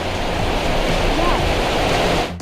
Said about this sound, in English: We're actually walking on the waterfall.